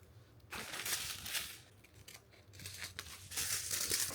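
Scissors snipping and crinkling through a plastic packet at close range, several bursts of crisp cutting and rustling with short pauses between them and no talking.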